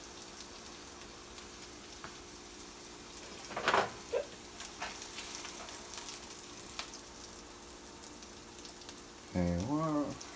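Mushrooms sizzle in a frying pan while eggs Benny is being cooked, with a steady soft crackle, a few sharper spits and stirring clicks, and a brief voice near the end.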